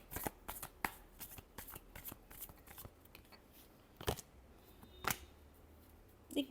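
Tarot cards are shuffled by hand in a rapid series of crisp riffles and slaps, close and fairly quiet, with short pauses between bursts.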